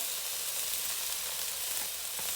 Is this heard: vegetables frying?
yes